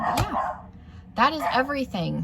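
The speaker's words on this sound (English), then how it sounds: "I think my dog food's being delivered because now they're barking." Dogs barking indoors at a delivery, a sharp bark then a run of several yelping barks, fairly near, with someone talking before them.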